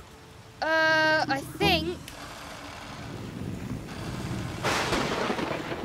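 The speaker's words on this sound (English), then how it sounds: "It's pouring with rain." Cartoon heavy rain pours with thunder, a broad hiss that swells and rumbles. A voice speaks briefly near the start.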